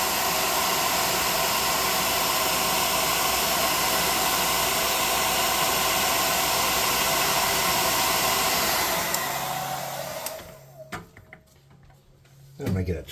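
A hair dryer on low heat drying craft mushroom planter pieces blows as a loud, steady, close whoosh for about nine seconds, then shuts off and leaves a few clicks and handling noises.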